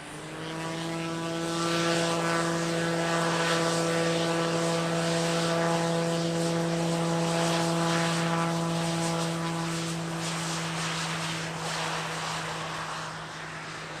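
A Turkish Aerospace Hürkuş propeller trainer flies past at an airshow, its steady droning propeller whine swelling to a loud peak overhead and then slowly fading as it moves away.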